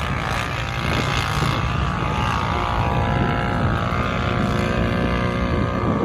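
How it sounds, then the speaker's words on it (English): A Polaris or Can-Am ATV revving hard at its rev limiter on a winter ride, a loud, sustained high-pitched engine buzz that holds steady and stutters slightly, close by, with no talking. "he's revving. He's setting the rev limiter."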